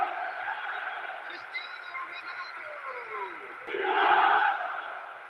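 Stadium crowd noise from an eFootball match with Milan two goals up: a continuous murmuring roar, likely with commentary layered over it, swelling into a louder surge of cheering near the end.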